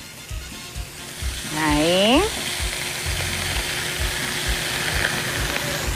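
Garlic and onion fry in a hot pan with a steady broadband sizzle, joined briefly by a squeaky rising scrape and a short spoken word.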